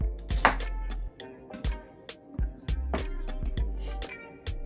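Vegetables being roughly chopped on a cutting board in a home kitchen, a run of knife thunks in uneven bursts, close and fairly loud, with no talk.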